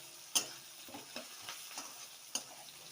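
Chopped onions fry in refined white cooking oil in a home kitchen, browning toward a reddish colour. The sizzle is faint and low, broken by a few sharp isolated pops and ticks.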